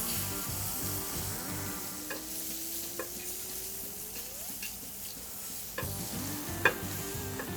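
A grass-fed beef burger patty searing in oil, with a continuous close sizzle and crackle and occasional light scrapes and clicks of a spatula lifting it.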